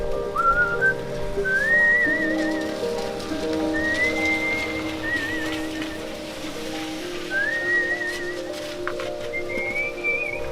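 Steady monsoon rain patters on surfaces while a person whistles a short, recurring tune several times over it, with a low hum underneath.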